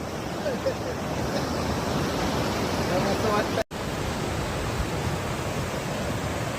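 Water flows steadily in an outdoor natural setting, a continuous broad rushing sound like a stream or waterfall that fills the whole clip at an even level, with a faint voice briefly underneath.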